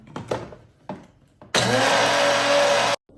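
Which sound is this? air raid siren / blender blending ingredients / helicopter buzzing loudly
blender blending ingredients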